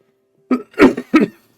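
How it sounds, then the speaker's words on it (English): Three short coughs in quick succession, close and fairly loud, after a brief moment of quiet with no talking. "Sorry if you catch me coughing."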